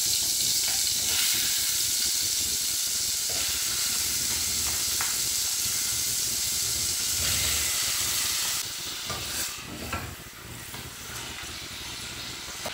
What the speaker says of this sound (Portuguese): A gente vai dar uma refogada bem nessa carne.